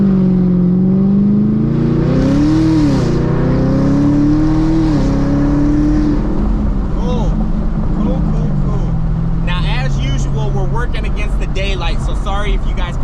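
A ProCharged supercharged Chevrolet Camaro SS drives off and accelerates, its engine droning loudly and swelling in pitch as it revs, while a person talks over the engine from inside the car.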